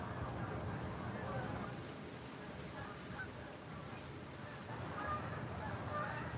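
Geese honking outdoors on a morning, distant and faint honks and chatter scattered through a steady background wash, with a voice present at a low level.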